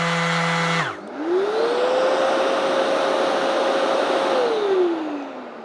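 A Festool CT EI vacuum extractor spins up as a cordless power tool starts, a steady rising whine and airy rush that holds loud and even, then winds down at the end after a brief earlier tone.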